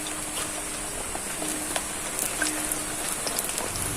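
Semolina gulab jamun sweets fry in hot oil with a steady, dense sizzle that crackles and pops close by throughout.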